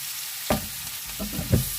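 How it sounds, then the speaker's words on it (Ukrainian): A steady hiss of onions frying in hot rendered pork fat, with a few stirring scrapes breaking through, close by and with no voices. "І цибульку смажимо до стану такого, знаєте, уже підрум'янину."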